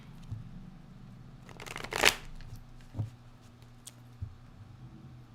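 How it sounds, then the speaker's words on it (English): A deck of tarot cards is shuffled at close range, with a burst of riffling around the middle and a few soft taps and card slaps before and after, otherwise quiet. "But I am still shuffling the cards"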